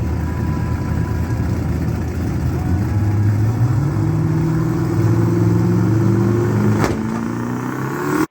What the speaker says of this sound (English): There, it just backfired and stalled out.